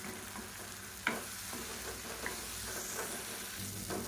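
Tomato masala with chilli powder and turmeric sizzles steadily in the pan for egg kuruma, with a few sharp scrapes and clinks from the stirring spoon over a constant frying hiss.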